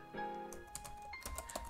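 A command is typed on a computer keyboard into a terminal window, a short burst of quick, close clicks following a brief tone, quiet and unaccompanied by talk.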